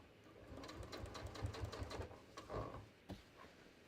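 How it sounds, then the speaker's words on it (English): A sewing machine stitches down the inside edge of a seam on jeans turned inside out, running in a quiet, steady rapid patter with a few brief pauses and taps near the end. "So I'm going to start on this inside edge, and I am just going to stitch down."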